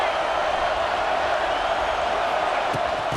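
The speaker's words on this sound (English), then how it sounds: "This crowd is trying to inspire this defense to make a big red zone stop." Fans at a Georgia versus Texas A&M college football game fill the stadium with a loud, steady roar as the defense faces a red zone stand, the noise sustained throughout with a few sharp knocks near the end.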